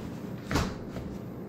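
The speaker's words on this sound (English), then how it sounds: "So close the door." A sliding glass door being shut after a latch adjustment, a single soft thud and rumble near the middle, fairly close and moderately loud, with no talking.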